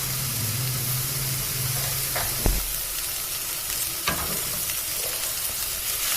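Paprika and vegetables sizzle steadily in a frying pan for Hungarian lecsó, a constant hissing fry broken by a couple of brief clinks of a utensil stirring against the pan.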